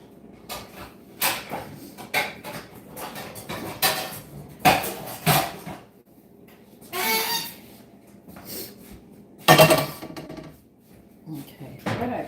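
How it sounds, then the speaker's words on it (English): Pots and pans clatter and clank in a home kitchen as a frying pan is pulled out and handled, with scattered metallic knocks, scrapes and cupboard sounds at close range. "I need a frying pan now."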